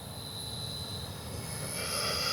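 An FMS F-86 80mm RC model jet with a KM Models afterburner comes in to land down a runway, a steady rushing jet whine at moderate distance that swells slightly louder toward the end.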